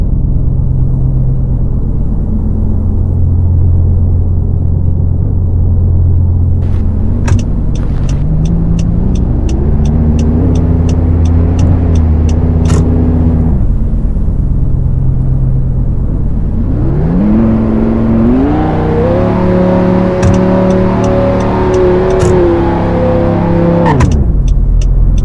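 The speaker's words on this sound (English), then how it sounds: "But let's do a first-person drive." A 2021 Audi R8 V10+ Spyder engine from the Roblox Greenville game drones in first-person driving, revving up and down in long smooth sweeps with a short dip partway through, loud and continuous with no talk.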